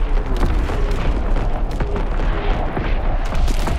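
An artillery battery firing in Call of Duty WWII, dense rumbling booms layered continuously, loud and close, with no clear gaps between impacts.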